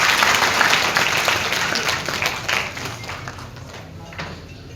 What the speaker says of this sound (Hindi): एक बार तालियों के साथ उनका